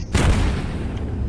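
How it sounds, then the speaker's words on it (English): A single deep boom of an explosion in a game's radioactive wasteland, heavy and rumbling, fading into a low lingering roar. "Why are there explosion sounds?"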